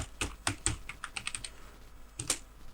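Light clicking keystrokes on a computer keyboard while a composer dump-autoload command is entered, about a dozen quick, uneven taps in short bursts with a brief pause before a final pair, close and quiet.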